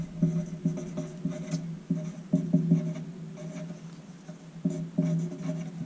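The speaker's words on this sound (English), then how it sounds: "So let's just write that down." Pencil or pen writing notes on paper, close scratchy strokes in short irregular bursts with brief pauses between words, quiet and with no speech.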